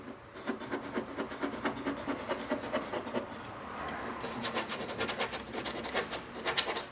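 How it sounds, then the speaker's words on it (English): A Dodge Ram door sill protector being rubbed back and forth over its transfer tape, giving a steady dry rasping and scraping in quick repeated strokes, close and fairly continuous, with no talking. "now is the time to go back and forth over it like this while this transfer tape is on here"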